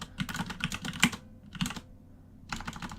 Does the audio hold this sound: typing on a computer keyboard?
yes